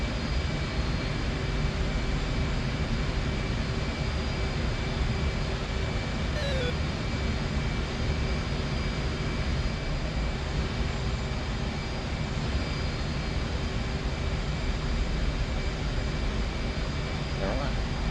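F-14 jet engines in the DCS flight simulator game make a steady, even roar that holds throughout, with a faint brief whine partway through.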